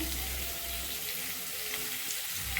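Radish sautéing in a pan for idli sambar, a faint, steady sizzle with soft frying hiss throughout and no speech.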